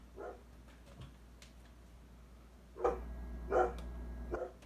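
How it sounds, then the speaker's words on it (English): A dog barks a few times at a distance, short sharp woofs spaced irregularly over a quiet low hum. "Let me see what he's barking at."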